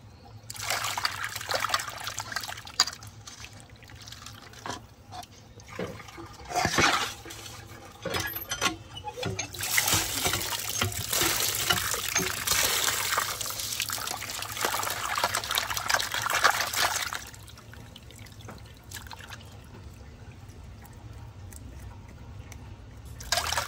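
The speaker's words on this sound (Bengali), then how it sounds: "মাছগুলোকে আমি এইভাবে 2-3 বার করে ধুয়ে নেব।" Freshly cut live tilapia from the Bhagirathi river rinsed by hand in water two or three times, steady trickling and splashing with bursts of gushing water, close and fairly soft, no talk.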